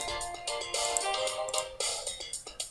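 A phone ringtone plays in a repeating electronic pattern of short bright tones, close and clear with no talking over it.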